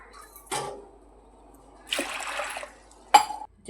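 Sprouted moth beans being washed in water in a kitchen vessel, three separate bursts of sloshing and splashing with quiet gaps between, close and fairly clear.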